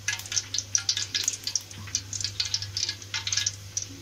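Oil heating in a kadai for pepper-garlic stingray fish curry, giving a steady crackling sizzle with rapid pops and spits, close and fairly quiet, over a low hum, with no talk.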